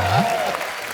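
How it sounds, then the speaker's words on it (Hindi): Audience applause fills a comedy show studio in one steady, dense wash of clapping that holds at an even level, with a faint sustained tone sitting underneath. "आप लोग भी तालियां बजा सकते"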